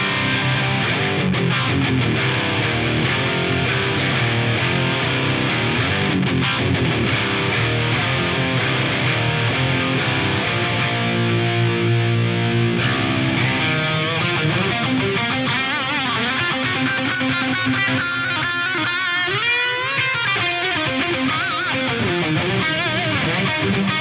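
Heavy, saturated electric guitar through a Fractal Audio amp modeler on a USA Lead mid-gain amp with plate reverb plays continuously and loudly, chugging low riffs giving way to sustained lead notes, with no voices.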